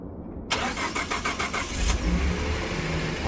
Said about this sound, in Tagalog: I-start ko lang yung truck ko